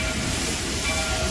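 A heritage excursion train rolls along with a continuous loud roar, rumble and hiss that stays steady throughout, with no distinct beats or voices.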